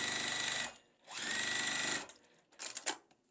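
A sewing machine stitches pieces of a quilt block fabric in two loud, even bursts separated by a brief pause, followed by softer clicks and handling sounds.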